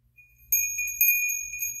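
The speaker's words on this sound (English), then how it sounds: "vintage small cowbells. They're Indian bells. Made in India" Small vintage Indian cowbells, made in India with little wooden clappers, ring in a few bright metallic jingles that start softly and then come in closer, steady repeated shakes with sustained high tones and no talking.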